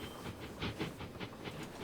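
Several trains running together on a busy line into London in the Transport Fever 2 railway game, a steady hissing and rumbling rail wash with soft rhythmic clatter pulses, moderately loud and continuous throughout.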